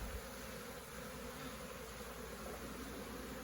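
A dense swarm of honey bees pours out of an opened hive during queen rearing, a steady, loud, continuous buzzing drone that fills the whole moment without pause and with no talking.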